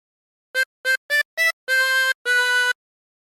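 Tremolo harmonica with 16 holes playing the opening of Yankee Doodle: six reedy, wavering notes, four short separate blows then two longer held ones, close and clear with no talking.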